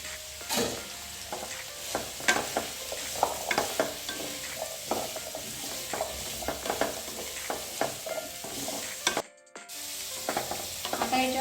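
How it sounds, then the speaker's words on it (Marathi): Pumpkin pieces sauté with onions in a hot pan, a steady loud sizzle broken by frequent scraping and clinking stirs from a spoon, close up with no talking. "आता याच्यामध्ये मी आता तुकडे ऍड करते कांद्याबरोबरच हे पण थोडेसे परतून घ्यायचे"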